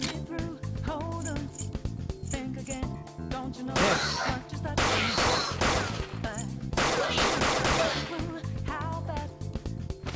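Gunshots from the player's gun in Persona 5 Royal, rapid fire bursts in two dense clusters amid battle music and effects, with voices heard.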